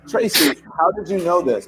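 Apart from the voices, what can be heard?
sneeze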